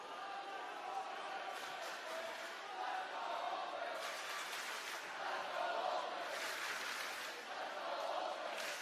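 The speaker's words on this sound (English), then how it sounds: "A sea of purple cheering on their Knights." A roaring student section cheers continuously at a boys' state final volleyball match between Southern Regional and Old Bridge, a dense, steady wall of crowd noise with swelling surges and an announcer talking over it.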